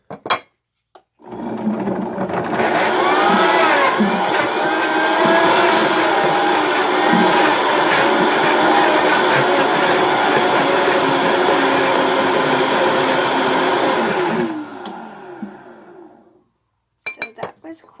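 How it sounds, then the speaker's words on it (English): A high-speed blender whirs through sliced raw organic apples with the skins left on, starting abruptly and holding a loud, steady motor roar with shifting pitch and rattling for about thirteen seconds before cutting off, followed by brief clatter. "I suggest to use a high-speed blender as it's easier to blend."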